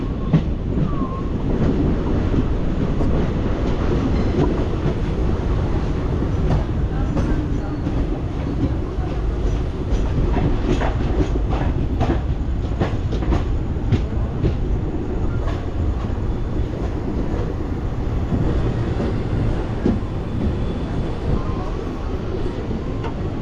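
At a railway station just after rain, a train rumbles close and loud with rhythmic wheel clatter and occasional clicks throughout, while voices are faintly audible beneath it.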